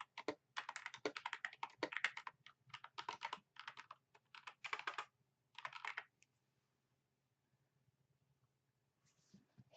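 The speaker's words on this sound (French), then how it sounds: "Vous allez taper ici All-in-One Migration." Rapid bursts of typing on a computer keyboard, crisp close clicks in quick runs with short pauses, fading to near silence at the end.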